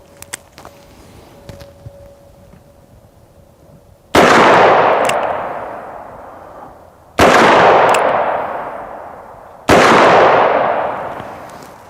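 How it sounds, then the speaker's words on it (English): Three loud, sharp .44 Magnum gunshots strike an AR500 steel body armor vest, each a close, booming crack with a long ringing decay, spaced a few seconds apart after a quieter opening stretch. ".44 Magnum."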